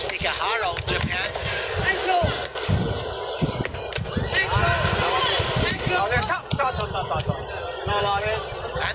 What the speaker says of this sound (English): We can hear every landing of the gloves inside that ring.